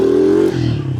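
A small 110cc four-stroke motorcycle engine revs briefly, a loud close tone that holds steady and then drops in pitch as the throttle eases.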